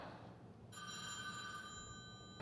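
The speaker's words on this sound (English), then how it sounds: "Of course the phone rings now." A telephone bell rings in a motorcycle repair shop, starting abruptly after a moment of quiet room noise and holding as a steady, fairly faint electronic ring with no talk.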